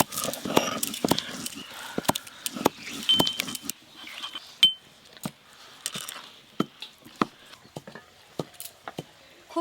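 Spices being pounded for mutton curry in a metal mortar and pestle: close, sharp metallic strikes in an irregular run, with a few quicker clusters and brief pauses between blows.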